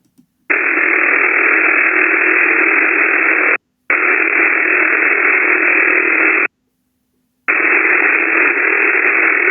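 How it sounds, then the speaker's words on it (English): A Russian Container over-the-horizon radar signal comes through a radio receiver as a loud, harsh buzzing hiss in three long bursts separated by brief silent gaps, with faint static between them. "This is known as their container radar."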